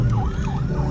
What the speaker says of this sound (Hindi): ये देखें एम्बुलेंस जा रही हैं जी।